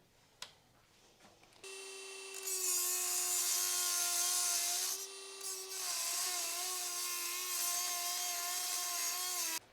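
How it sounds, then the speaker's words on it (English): Rotary Dremel tool and grinder cutting off a metal bracket, a high whining tone starting after a brief knock and holding loud and steady for several seconds, with a short dip midway as the cut pauses. "We actually resorted to a combination of the Dremel and the grinder as well"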